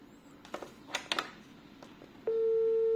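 An ECG-405 corded caller ID telephone gives a few short, faint dialing beeps in quick succession, then a steady, louder continuous tone holds alone to the end.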